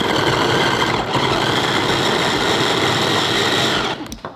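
A food processor whirs loudly and steadily as it chops carrots and onions, its motor buzzing for about four seconds before cutting off abruptly.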